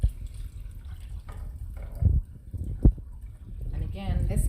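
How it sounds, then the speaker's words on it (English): A can of water is poured into a pot of borscht soup, giving a soft splashing pour with a few sharper liquid bursts, partly under a talking voice. "topping it off with a whole can of water"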